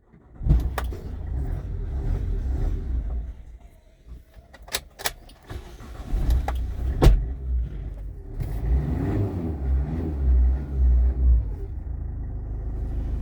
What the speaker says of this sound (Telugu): సో వెహికల్ స్టార్ట్ చేస్తున్నా.